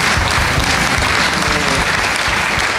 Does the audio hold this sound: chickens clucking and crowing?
no